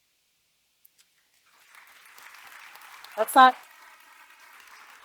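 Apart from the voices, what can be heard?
applause at a nursing pinning ceremony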